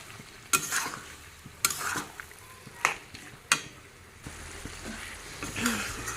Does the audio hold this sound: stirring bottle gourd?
yes